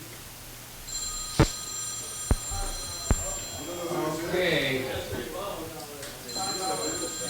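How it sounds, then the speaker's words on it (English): A phone rings during a Lions Club scholarship meeting, a sustained high electronic tone with sharp clicks, heard alongside people talking in the room. "In a Lions Club, if your phone rings, it's fine."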